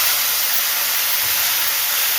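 Tomato puree cooks in a hot pan with chilli and ginger, a dense continuous hiss of sizzling close by, steady and loud across the short stretch, with no voices.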